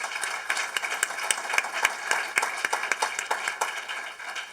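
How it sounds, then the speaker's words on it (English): An audience applauds leaders who are not present at a panel discussion, a steady patter of many hands clapping at a moderate distance for several seconds. "So if you join me in applauding them in their absence"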